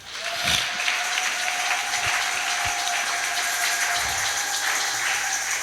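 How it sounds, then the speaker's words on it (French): A church congregation at a Sunday service breaks into sustained applause, a broad steady roar of clapping that carries on for several seconds, with a few louder close thumps and faint voices mixed in. "Est-ce qu'on peut acclamer pour Jésus?"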